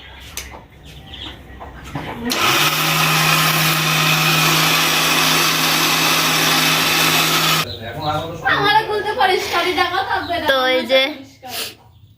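A kitchen blender grinds soaked rice into flour, a loud steady whirring motor with a low hum that runs for about five seconds, then stops and voices talk afterward.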